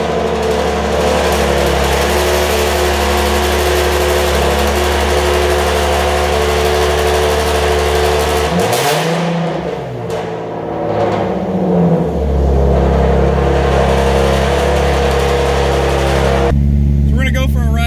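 A tuned, very loud Nissan 370z VQ engine runs close by in a steady, heavy drone, dipping briefly and then swelling back to full strength, with voices audible over it.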